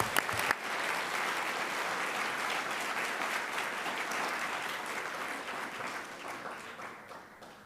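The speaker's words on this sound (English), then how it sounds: "Again, let's give them another round of applause." Steady applause from a school board meeting audience, many hands clapping together at an even level before gradually fading out.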